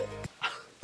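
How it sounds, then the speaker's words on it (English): A person with bronchitis gives a short, close cough followed by a softer throaty exhale, in a quiet indoor setting. "I had to cough."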